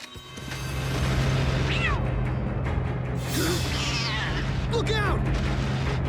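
A cartoon cat's meows and yowls from an animated Transformers Rescue Bots episode, several short wavering cries rising over a loud, steady rumbling background of engine and action noise.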